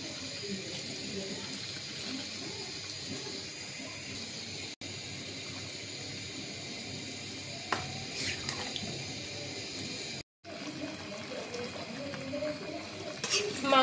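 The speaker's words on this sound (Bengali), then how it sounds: "অল্প পরিমাণ পানি দিয়ে দিলাম।" Water poured into pieces of chicken cooking in a pot for chicken biryani: a steady, fairly loud rushing gush runs almost continuously, with two brief dropouts and small clinks of the pot.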